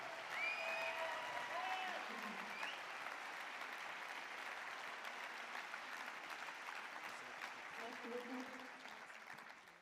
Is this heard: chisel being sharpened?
no